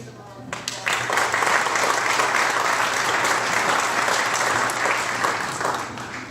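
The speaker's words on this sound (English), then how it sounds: "So can we give them a round of applause?" Sustained audience applause at an annual membership banquet, a dense even roar of many hands clapping that swells in after a quiet moment and holds steady to the end.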